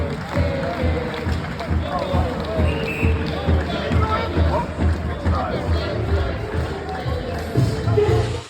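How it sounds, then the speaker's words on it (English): Arena crowd at an ice hockey game moments after the opening puck drop on a Sunday night, a dense, steady roar of voices and babble with scattered shouts and thuds, loud and continuous throughout. "here are some sounds from the crowd just after puck drop on Sunday night"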